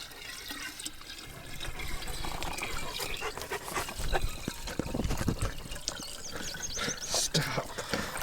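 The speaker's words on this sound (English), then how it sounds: "we're gonna pour it into our jar and fill it basically to the top" Pond water is poured from a scoop into a glass jar, filling it nearly to the top: a continuous splashing trickle and gurgle at close range, steady in level with small bursts.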